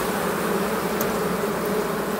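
Honey bees in a huge hive swarm with a dense, continuous buzz during a honey extraction, loud and close with no other sounds.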